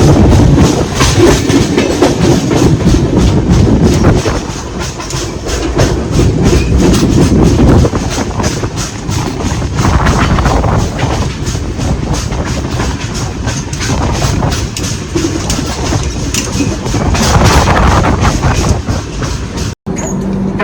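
A train rolls steadily along the Konkan Railway near Ratnagiri, a loud continuous rumble with rhythmic wheel clatter and occasional squeals, heard from on board.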